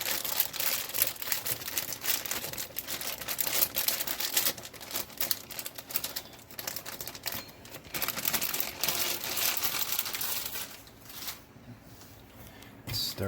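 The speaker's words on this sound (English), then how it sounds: "Take a bag of baby carrots. I'm not going to use this whole bag, I'll use about half. And just throw them in as is." A plastic bag of baby carrots crinkling and rustling as the carrots tumble into a soup pot, a dense run of crackles and small clattering knocks, close, with brief talking in between.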